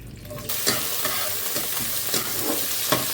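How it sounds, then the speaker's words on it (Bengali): Chopped onions drop into hot oil tempered with cumin, setting off a sudden loud sizzle that keeps crackling steadily, with a few spatula scrapes, while cooking a Bengali prawn curry. "পেঁয়াজটা আমি এখন দিয়ে দিচ্ছি ফোড়নে।"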